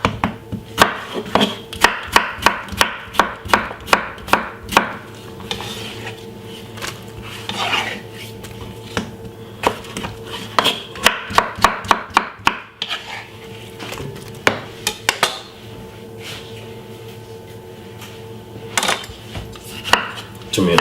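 A knife chops cucumber on a board in rapid, steady strokes that come in bursts with brief pauses, close and crisp, with no talking.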